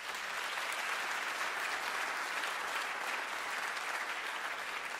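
Steady, dense applause from a concert audience at a Polish Radio jazz studio show, a broad even wash of many hands clapping that holds at a constant level for the whole stretch, with no voices standing out.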